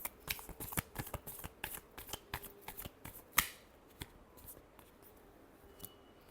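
A deck of tarot cards being shuffled by hand, a close run of crisp riffling slaps and flicks in uneven bursts, one sharper snap in the middle, then a few sparse clicks, with no talking.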